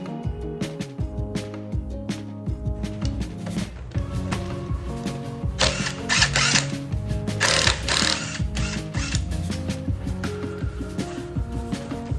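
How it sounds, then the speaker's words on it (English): A 14mm ratchet wrench works on brake caliper bolts, giving close, repeated mechanical clicking and whirring strokes in quick bursts. "To remove my calipers, I use a 14mm ratchet wrench"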